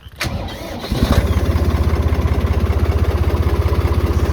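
A Lamborghini Crono 55 tractor engine cranks briefly, catches, and settles into a loud, steady, rhythmic chug close by.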